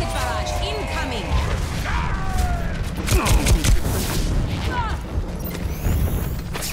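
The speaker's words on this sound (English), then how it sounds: "Rocket barrage incoming." Game rocket barrage with a rapid string of booming explosions and crashes that rumble and overlap across the whole stretch, while voices talk over the top.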